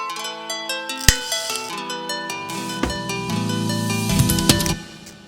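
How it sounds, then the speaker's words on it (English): A nylon string guitar plucks warm notes and chords, with a few sharper accented strums, close and moderately quiet, no voices. "It's just a nylon string guitar."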